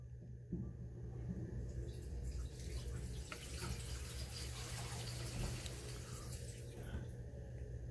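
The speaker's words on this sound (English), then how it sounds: "Can you flush the toilet, please," Water rushing from a toilet being flushed in a house with plumbing trouble: a steady, fairly loud hiss and low rumble that runs the whole time, with faint voices underneath.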